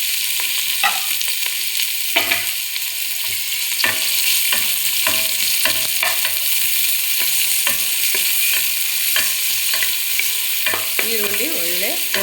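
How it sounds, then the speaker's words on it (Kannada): Chopped onion fries in oil for a fish masala, giving a steady bright sizzle broken by repeated scraping and clicking strokes as it is stirred in the pan, with no one talking. "ಕಟ್ ಮಾಡಿದ ಈರುಳ್ಳಿ ಹಾಕ್ಕೊತೀನಿ."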